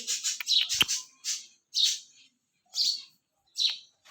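House sparrows give a series of clear, close chirps, quick bursts at first and then spaced single calls separated by short silences.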